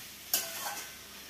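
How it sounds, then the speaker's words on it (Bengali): Soya chunks stirred and fried in a pan, one short scraping stir over a soft, steady sizzle, close by, no voices. "এখন করছি সয়াবিন মাখা মাখা করে, কষা কষা করে"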